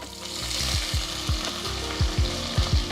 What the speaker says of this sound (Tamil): இப்போ இதில் நான் 2 பெரிய வெங்காயம் நறுக்கி சேர்க்குறேன்.